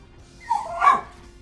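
A pet dog gives a single muffled bark-like yelp, mid-distance in a quiet room, preceded by a fainter short whine.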